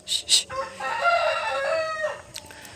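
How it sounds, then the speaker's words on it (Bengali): Farm chickens cluck twice sharply, then a rooster gives one clear, fairly close crow lasting about two seconds, with a faint cluck after. "এই সাইডে কিছু মুরগি চলে আসছে"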